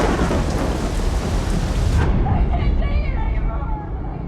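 A violent wilderness thunderstorm roars with heavy rain and a loud, rumbling thunder crash, its deep booming dominating the first half before easing into a lighter, steady downpour.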